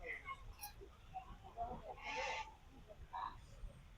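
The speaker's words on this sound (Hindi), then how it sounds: "ये पहला पक्षी मुझे दिख गया है, हंस। देखिए आवाजें भी निकाल रहा है ये धीरे धीरे करके।" A black swan at the Delhi zoo enclosure gives a few faint, short calls in a busy outdoor setting, with people talking nearby.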